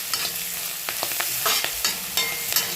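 Upma being sautéed with salt in a pan, a close sizzle broken by quick scraping stir strokes in an uneven rhythm, each stroke sharp and distinct.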